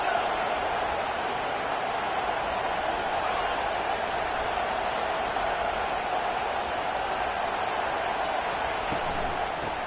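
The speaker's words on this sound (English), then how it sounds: "Here comes this home crowd as the defense tries to get off the field on 3rd down" A home crowd roars continuously in a college football video game as the defense faces a 3rd down, a dense, steady wash of cheering noise throughout.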